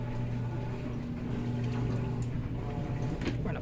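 An Amana washing machine fills with water, giving a steady low hum with a running-water wash over it that continues throughout. A faint splash comes near the end.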